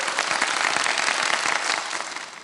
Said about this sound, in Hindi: तालियां बजा दे भाई।